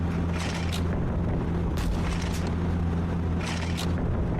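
Explosions from bombing transport vehicles in the video game Quarantine: a dense, continuous low rumble with repeated dull booms layered over a steady low hum, loud throughout.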